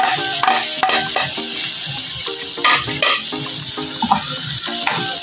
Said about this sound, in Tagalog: At saka natin ihulog yung ating sibuyas. Ayan. Inuun na ko yung sibuyas. Tapos, bawang.